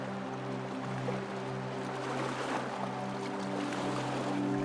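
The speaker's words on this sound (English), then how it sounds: "With the hum of the engine beneath us and the open sea ahead" The engine of the Thames barge Greta hums steadily at sea out of Whitstable, a constant low drone with a faint wash of water over it, and no voices.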